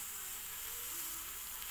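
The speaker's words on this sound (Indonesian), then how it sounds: "suara CO2 yang keluar dari dalam unitnya." CO2 gas hissing steadily out of an Umarex Glock 19 air pistol as the valve is slowly opened, a close, even, faint hiss lasting under two seconds with no talk.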